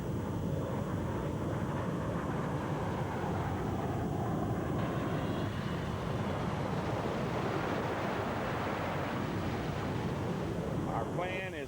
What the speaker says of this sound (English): Big helicopters, little helicopters, air tankers